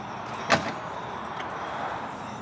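2021 Toyota Supra GR hood pulled open, a single short clunk of the latch releasing, close and fairly quiet, followed by faint rustling against a low background hiss.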